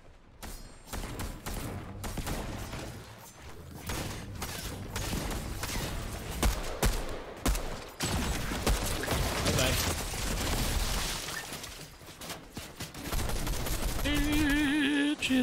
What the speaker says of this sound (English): lot of shooting here.